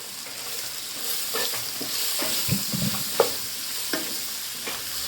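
Onions frying in a pan with salt and turmeric hiss in a steady sizzle, broken by repeated scraping strokes as a utensil stirs them up close.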